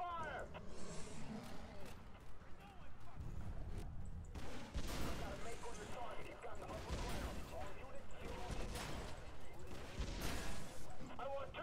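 Explosive weapon fire and blasts from a grenade launcher in the game Prototype 2, a dense run of loud booms and gunfire layered over continuous battle noise, with voices heard alongside.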